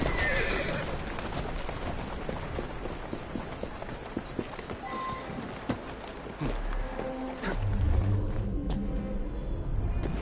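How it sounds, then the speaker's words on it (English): A horse whinnies up close, followed by scattered hoof clops and movement against a busy, noisy background. No one speaks. "Who's a good horse?"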